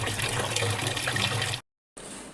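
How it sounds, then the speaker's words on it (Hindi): Tap water running through a repaired kitchen sink drain pipe makes a steady, close rushing gush that cuts out abruptly, leaves a short silence, then resumes more thinly. "मैं आपको पानी चला के दिखाती हूँ।"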